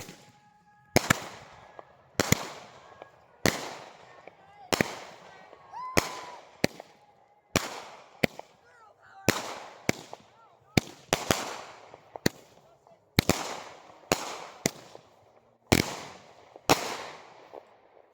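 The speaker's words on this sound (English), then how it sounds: "you just gotta make sure you always have a fire extinguisher on hand" Consumer fireworks going off in a steady series of about fourteen sharp, loud bangs, each followed by a short crackling tail, spaced one to two seconds apart, with faint voices between bursts.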